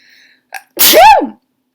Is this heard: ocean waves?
no